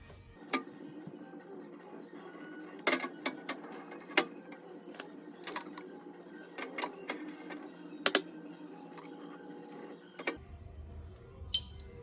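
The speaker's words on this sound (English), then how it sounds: "That was the glass cracking." A glass beer bottle cracks along a poorly scored line as it is cut into a drinking glass, giving faint, sharp tinks and small clicks scattered over a quiet background.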